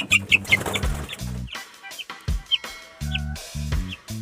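Three-week-old chicks give close, repeated clucks and chirps in quick succession, with a few soft peeps and rustles between calls.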